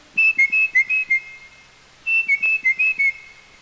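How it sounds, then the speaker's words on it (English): A tufted titmouse gives clear two-note "peter" whistles, repeating in two quick bursts of about five phrases each, separated by a short pause, close and alone. "you must have heard a tufted titmouse giving his Peter,"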